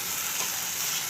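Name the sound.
dried fish thokku stirred and frying on high flame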